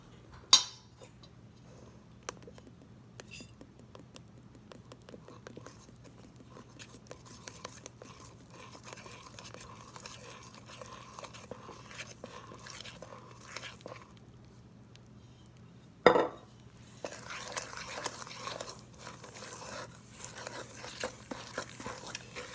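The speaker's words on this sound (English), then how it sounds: "And then we just mix the dough" Gluten-free tortilla dough with avocado oil is mixed in a bowl, producing continuous soft scraping and clinking of utensil against the dish, with a louder knock partway through and busier stirring afterward.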